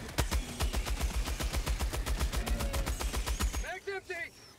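A weapon in Helldivers 2 fires a rapid burst of evenly spaced, loud, punchy shots for nearly four seconds, then cuts off abruptly, after which a voice speaks.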